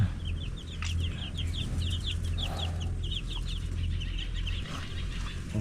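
Farm chickens cluck steadily in short, repeated calls, several birds close together over a low, constant background hum.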